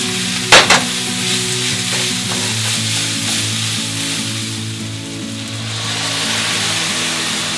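Ginger and garlic sizzle steadily in a hot pan as they cook down, a continuous close frying crackle with a couple of brief utensil clinks near the start.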